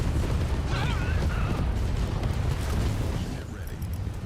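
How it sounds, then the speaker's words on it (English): Grenade explosions go off in the real-time strategy game Tempest Rising, a steady barrage of booms and crackling bursts amid mechanical battle noise. The din eases slightly toward the end, and brief talk is faintly mixed in. "Wait, these are laser? Oh, those are grenades."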